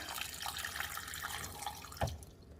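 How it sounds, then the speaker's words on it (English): Water is poured for soup steadily for a few seconds with a splashy, bubbling hiss, briefly louder near the end as it stops. "going to add some water."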